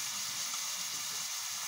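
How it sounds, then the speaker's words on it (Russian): Meat frying in oil in a pan, a steady bright sizzle and hiss holding evenly for a brief moment with no talk. "Обжарим мы сначала наше мясо."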